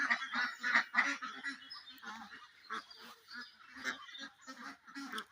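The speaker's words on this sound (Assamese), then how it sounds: "হোৱাইট পেকিং কালাৰিং চব মিলাই এতিয়া প্ৰায় 150 মান আছে হাঁহ।" A flock of around 150 White Pekin and Kalaring ducks on a farm, calling in a dense chorus of overlapping nasal quacks and honks that rise and fall in bursts, fairly close.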